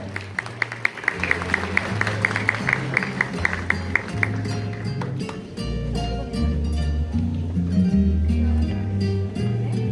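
Audience applause at a school graduation ceremony as a ninth-grade student is called forward, sustained clapping mixed with background music and some crowd noise.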